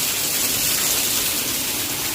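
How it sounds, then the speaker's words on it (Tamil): Heavy monsoon rain pouring down in Mumbai, a dense, steady roar of drops without pause, loud and close. "என்ன மழை."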